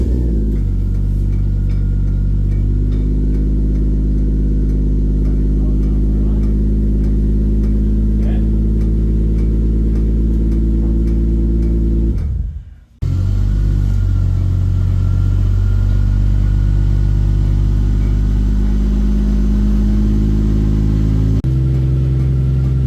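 A Toyota 1JZ-GTE engine swapped into a BMW E46 starts for the first time in a backyard build. It runs with a loud, deep, steady rumble, cuts out briefly midway, then fires again and idles with some revving.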